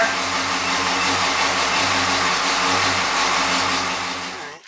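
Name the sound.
car engine started, running rich with choke on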